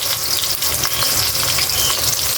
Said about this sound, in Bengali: এই যে আমি মাংসের জন্য তেল পেঁয়াজ বসিয়ে দিয়েছি